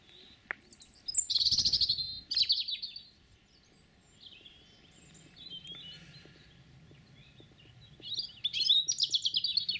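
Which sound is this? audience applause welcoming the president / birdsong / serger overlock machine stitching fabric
birdsong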